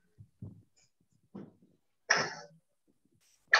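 A single sharp sneeze bursts out at close range after a few soft breaths and small mouth sounds in a quiet room, followed by a brief start of another noise at the end.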